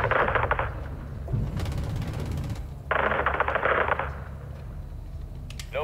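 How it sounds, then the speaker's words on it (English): Small arms fire from Call of Duty: Modern Warfare 2, heard as several separate bursts of rapid automatic shots with short pauses between them over a low background rumble. "Seeing small arms fire from the gas station."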